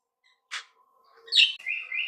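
Pet hill mynahs and ringneck parrots in a bird shop give a few short chirps and whistles in otherwise quiet surroundings: one sharp call, then a brief run of bright notes.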